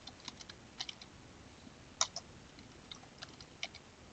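Typing on a computer keyboard while searching a biology database, with scattered, irregular key taps, one sharper keystroke standing out near the middle, close and fairly quiet.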